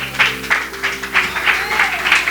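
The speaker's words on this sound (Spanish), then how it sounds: "Dele un aplauso al Señor." Church congregation applauding during a Spanish-language sermon, a steady patter of handclaps with rhythmic swells roughly twice a second, suggesting people clapping together in a hall, with voices faintly beneath.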